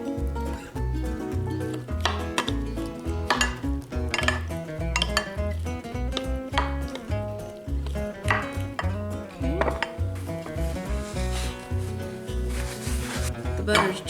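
Strawberries being stirred with their juice in a dish, giving a steady run of clinking and scraping utensil taps against the dish, close and fairly loud, with no talking.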